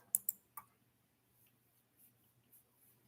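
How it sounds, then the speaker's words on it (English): Computer mouse clicking in a quiet room: two quick close clicks and a third just after, then several fainter soft taps spaced about half a second apart. "I'm going to click the word capital."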